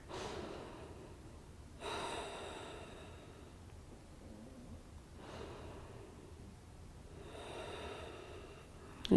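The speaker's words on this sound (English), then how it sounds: "And take 2 breaths here." Slow breaths during a gentle seated yoga twist. Audible inhales and exhales, close and soft, come in unhurried cycles with quiet gaps between them.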